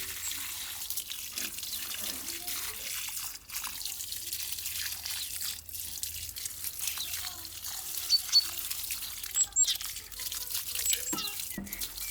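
Water trickles and splashes faintly and steadily as garden plants are watered, with a few louder drips standing out against a quiet background.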